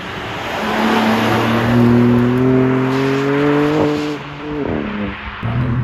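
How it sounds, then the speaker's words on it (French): BMW M2 with its inline-six engine and exhaust pulling hard while driving, a loud, steady, rising engine note with shifting harmonics, a brief dip near the end as the revs drop and then climb again. "le moteur L6 il est enchanté hein, avec cette mélodie, surtout cette sonorité de l'échappement"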